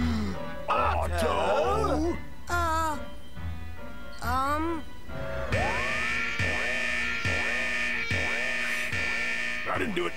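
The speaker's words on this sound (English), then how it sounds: "It's the history instability alarm, dummy." A repeating electronic alarm in a 2001 Time Squad cartoon, the history instability alarm, pulses in regular bursts through the second half after cartoon voices talk over a music bed.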